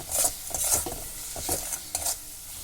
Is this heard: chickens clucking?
no